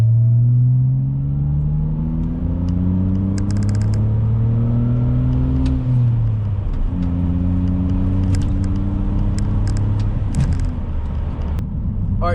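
A manual transmission car pulls hard, its engine note climbing through revs, dropping at a gear shift, then climbing again, with steady loud rumble and faint clicks inside the cabin.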